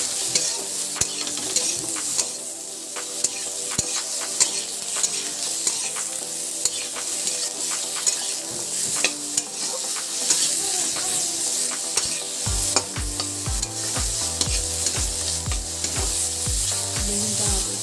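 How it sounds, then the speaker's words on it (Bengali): Eggplant pieces fry with salt and turmeric in a pan, a steady loud sizzle with scraping stirs throughout, joined near the end by a regular pulsing rhythm. "এবার এটা ভালো করে নুন হলুদটা আগে ভেজে নেব বেগুনটা"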